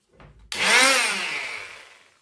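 A Vit angle grinder bites into a piece of wood, starting with a soft spin-up, then a sudden loud, harsh grinding whine that holds and slowly fades over a couple of seconds, close and alone.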